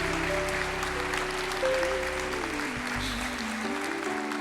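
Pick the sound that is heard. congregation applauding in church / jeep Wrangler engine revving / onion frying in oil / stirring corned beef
congregation applauding in church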